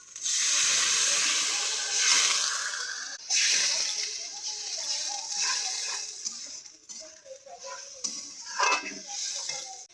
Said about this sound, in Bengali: এবার দিয়ে দেবো 1 গ্লাস জল।